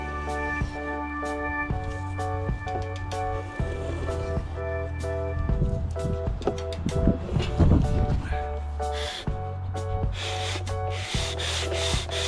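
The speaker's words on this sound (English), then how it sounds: "Here I am sanding the blade." A wooden autogyro blade is rubbed with sandpaper in repeated back-and-forth strokes, a close scratchy rasp that comes and goes over a steady background hum.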